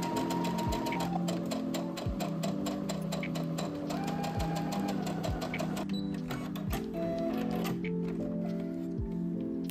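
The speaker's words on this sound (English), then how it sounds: "I pinned and sewed the front and back bodice pieces together at the shoulder seam" A sewing machine runs steadily as it stitches the shoulder seams of a dress bodice, with a rapid, regular mechanical clatter and a few brief shifts in pitch, close and loud throughout.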